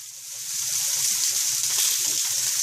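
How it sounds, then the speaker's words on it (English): A pan crowded with chilies frying hard, a loud, close, continuous sizzle that swells in the first moment and then holds steady with no talking. "if you are going to cook chilies like this, and so many of them in a pan"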